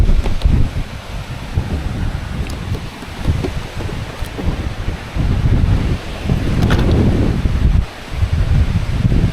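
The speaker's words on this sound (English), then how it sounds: "That's the wind in the trees, you can probably hear" Wind blowing through trees at night on the northeast coast of Scotland, a loud rushing roar that surges and eases in gusts, with rustling leaves and some buffeting on the microphone, no talk.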